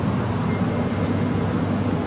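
Steady rumbling rattle inside a KTM Komuter train riding toward Batu Caves, a loud continuous roll of wheels on rails with no talk.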